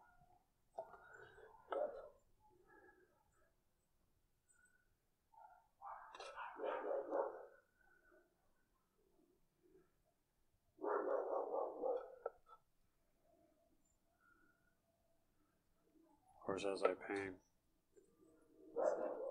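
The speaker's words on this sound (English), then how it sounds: "there's a dog running loose, and he hears my dogs, so apparently they're going crazy." Dogs bark in short bursts, some sharp and yelping, while a person speaks quietly between them.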